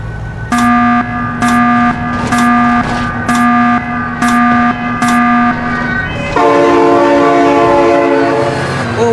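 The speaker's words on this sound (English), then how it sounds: "Oh my god, train!" A train sounds its horn in loud, repeated blasts that come in an even rhythm, then shifts to a steady chord as the train rumbles past close by, drowning out everything else.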